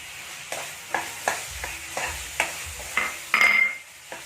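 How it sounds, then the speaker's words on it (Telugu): Chopped tomatoes going into a sizzling fish curry base for Telangana-style fish gravy, with a soft steady fry hiss and a regular rhythm of spoon stirs scraping the pan. "సో నేను టమాటో వేసుకుంటున్నాను"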